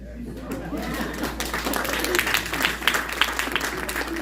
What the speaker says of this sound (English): So a huge round of applause for both of you